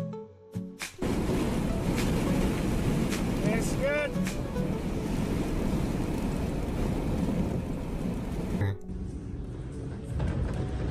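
Loud, steady wind roars and buffets the microphone for most of the clip in China, with a brief chirping sound midway before it suddenly drops off.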